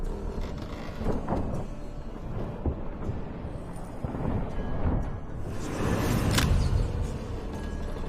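Thunderstorm in The Witcher 3 video game: a steady low rumble of rolling thunder and rain builds through the scene, swelling louder toward the end with a bright crackling burst, without talk.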